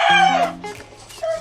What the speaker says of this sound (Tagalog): Mga tandang natin.